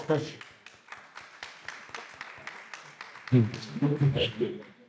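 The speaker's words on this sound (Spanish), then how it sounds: "Un aplauso para Ruth Gabriel." Sparse, steady clapping from a small audience at a film festival Q&A in Málaga, honouring actress Ruth Gabriel; the claps continue for a few seconds before a voice starts talking over the tail end.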